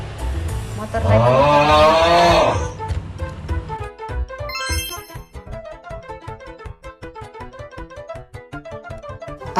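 A motorcycle engine revs loudly up close for a couple of seconds, drops away, then returns with a rapid, sputtering, uneven putter that continues to the end.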